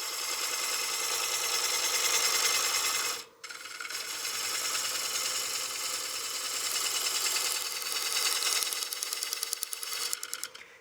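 A wood lathe spins at about 600 RPM while a gouge cuts a wooden platter, giving a steady close rasping, scraping whir that breaks off briefly before resuming with a rhythmic chatter.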